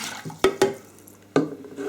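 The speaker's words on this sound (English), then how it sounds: "use your baby's bottle again to add your 450 ml of warm water" Warm water from a baby bottle is poured into a bread machine pan for low-protein bread, a splashing flow broken by a few sharp clunks, close and fairly loud.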